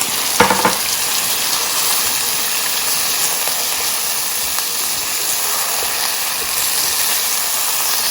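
Goat meat and masala fry in a pan for korma, giving a steady, loud, broad sizzle that runs the whole time with no one talking.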